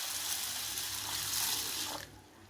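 Water runs steadily while 250 grams of green gram (moong dal) are washed in a kitchen vessel, a close, even rush that drops away abruptly near the end.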